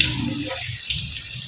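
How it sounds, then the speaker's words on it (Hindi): A little water is poured into spiced beef and cauliflower frying in a pan, giving a brief rushing splash and hiss that fades into quieter sizzling. "इसमें मैं थोड़ा सा पानी भी ऐड कर रही हूँ"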